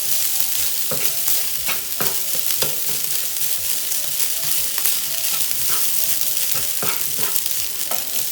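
Garlic tossed and stirred in a hot pan, sizzling and frying steadily with repeated sharp scraping clicks of the utensil, close and continuous.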